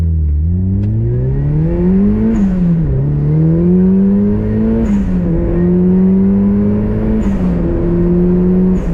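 A turbocharged Mazda Miata drives with the top down, its engine droning loudly and climbing in pitch through several gears, with brief dips at each shift and a whooshing turbo whistle riding above, heard from inside the car.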